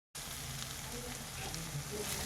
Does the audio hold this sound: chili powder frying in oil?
yes